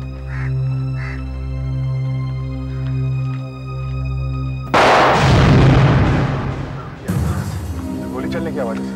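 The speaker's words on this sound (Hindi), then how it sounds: "गोली चलने की आवाज है।" Two sharp gunshot bursts ring out near a bungalow, breaking into a background of sustained tonal music, with the second blast following a couple of seconds after the first.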